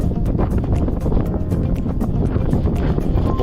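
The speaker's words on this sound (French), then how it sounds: "j'ai le vent dans le dos" Strong wind buffets the microphone while riding a bicycle on a road through Colorado, a loud, continuous low roar with rapid gusty fluctuations and no talking.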